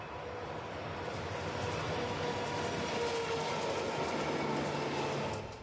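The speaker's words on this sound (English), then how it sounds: "was shooting this approaching train" A long train rolls past on railroad track at about 50 miles per hour, a steady, loud rumble and wheel roar that holds for the whole stretch and eases off only at the very end.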